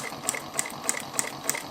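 A Juki 1541 triple-feed industrial sewing machine stitches at a steady pace, its mechanism ticking in an even rhythm of sharp clicks about every third of a second over a soft running hum, close up and without talking.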